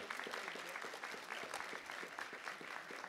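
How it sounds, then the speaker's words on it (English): Audience applause rings out at a Las Vegas City Council ceremonial meeting, a dense, steady patter of many hands clapping that fills the room for the whole stretch without letup. "Give her a great round of applause."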